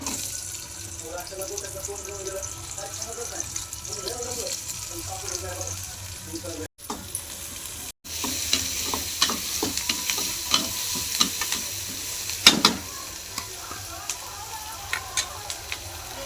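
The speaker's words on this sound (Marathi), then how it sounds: "तेल ठेवले कढईत, त्यात मस्त कांदा तळून घेऊ." Thick-cut onions sizzle in oil in a wok, a quiet steady frying hiss with scattered pops and stirring scrapes, briefly cut out twice, then growing a bit livelier.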